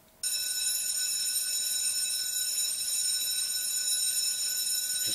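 A school bell rings in a horse dating-sim video game, starting abruptly and holding as a steady, loud, continuous electronic tone with no talk over it.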